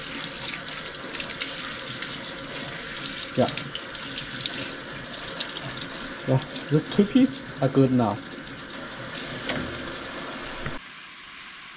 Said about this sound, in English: Just open the water and clean them.